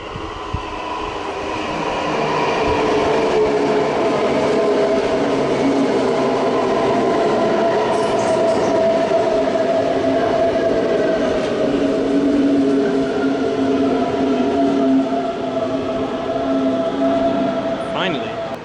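S2 S-Bahn train arriving at München Hbf, a sustained rolling rumble with squealing brakes and rail noise that builds and holds for the whole stretch, heard close up in a station.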